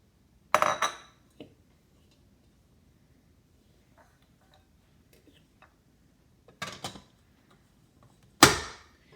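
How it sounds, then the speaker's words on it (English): Cream cheese and butter land in a mixing bowl for frosting, making three separate soft knocks and clinks spaced by quiet pauses, faint and close. "To the mixing bowl, I'm going to put the cream cheese and the butter."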